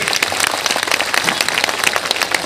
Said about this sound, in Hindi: दातो डॉक्टर लीम सर के लिए एक बार जोरदार ताली होनी चाहिए